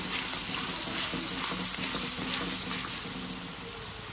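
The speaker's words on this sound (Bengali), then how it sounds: "গাজরটা হালকা আমি ভেজেছি।" Carrots fry in white oil in a hot wok for fried rice, a loud steady sizzle with faint stirring scrapes and no talk.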